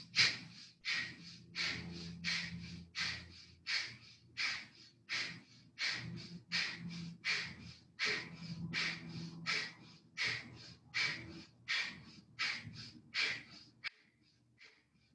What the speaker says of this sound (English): Deep belly breaths here.